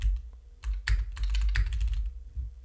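Computer keyboard typing at a desk: a quick burst of crisp keystrokes in uneven clusters, close and clear, with no voices.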